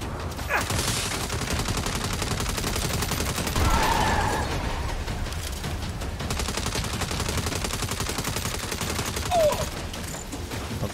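Dense, continuous automatic gunfire and bursts of shots in the Saints Row video game, loud and sustained throughout, with a slightly heavier blast near the middle and the firing layered over game noise.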